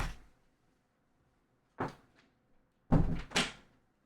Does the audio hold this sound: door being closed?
yes